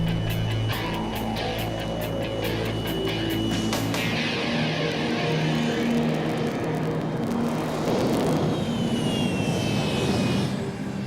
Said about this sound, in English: these jet engines still pack a punch